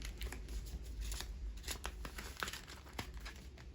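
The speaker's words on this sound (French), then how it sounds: "On peut fermer cette enveloppe." A paper envelope being closed, with crisp crinkling and rustling handling in close, quiet surroundings, broken by several sharp paper snaps and one brief louder crackle, with no voices.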